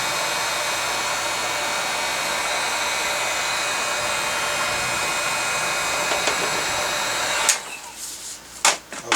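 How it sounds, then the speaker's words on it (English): A heat gun blows a steady, even hiss of hot air while shrinking heat shrink tubing, then cuts off near the end, leaving a few faint clicks and handling sounds. "heat up heat gun."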